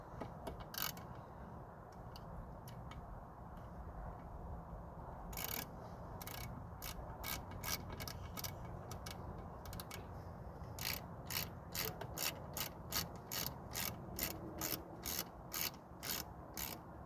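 Ratchet tightening a bolt on a 1.9L SOHC Saturn S-Series engine during a valve seal job, with quick clicking bursts early on and then a long, steady run of rhythmic clicks, close and alone.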